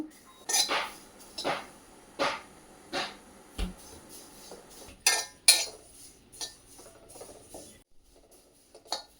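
Rangoli powder roasting in a pan over a medium flame, with a utensil scraping and clinking against the metal in a series of regular strokes, close and fairly crisp with quieter stretches between.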